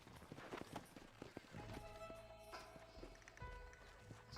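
Horse hooves clip-clop in the Red Dead Redemption video game, a quick, rhythmic trot of fairly soft, close footfalls over quiet game ambience.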